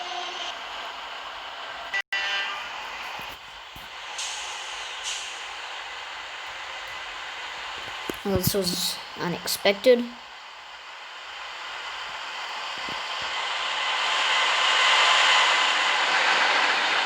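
In a train simulation game, a train rumbles past a station platform, a broad steady roar that swells louder toward the end, with a short cluster of clanks midway and someone talking briefly over it.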